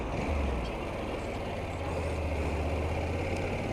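A motorcycle carrying a food delivery slows gently around a corner, giving a steady, close, low engine drone that holds without breaks.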